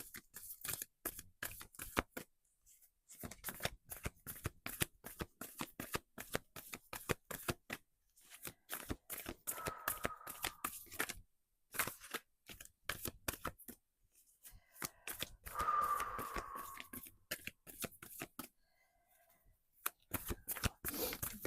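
Tarot cards being shuffled repeatedly in quick riffling bursts, close up, with brief pauses between shuffles and a faint voice now and then.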